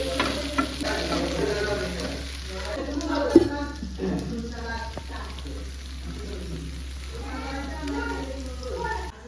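Maggi noodles and egg pizza frying in a pan, a steady close sizzle with stirring and scraping throughout, while a person talks over it.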